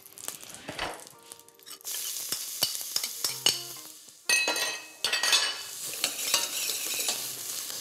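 Shallots hit melted butter in a saucepan and sizzle steadily, with a spoon scraping and clinking against the pan in short, irregular strokes, close and fairly quiet.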